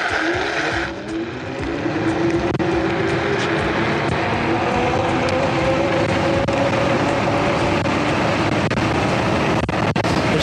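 The twin electric motors of an Angwatt C1 electric scooter whine and rise in pitch as it accelerates at full power, with loud rushing wind noise throughout.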